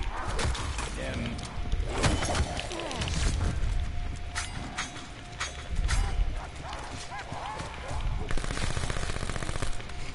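SMG gunfire in the zombies mode of the video game Blind Ops 4 rattles in rapid bursts, loud and close, with talking and other game noise mixed in among the shots.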